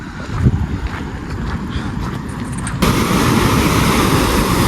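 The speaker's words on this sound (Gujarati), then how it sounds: "જુઓ પાણી જુઓ કેટલું જાય છે એટલું પાણી જાય છે" Steady rushing water pours loudly over an overflow spillway in hilly farmland, the roar growing suddenly fuller partway through and continuing without a break.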